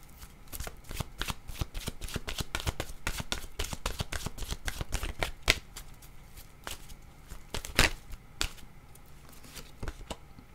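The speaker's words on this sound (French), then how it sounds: "allons-y maintenant avec une Carte de mon oracle de l'âme intuitive" Oracle cards being shuffled by hand, a rapid run of crisp riffling flutters and taps with brief pauses, close and clear with no talking.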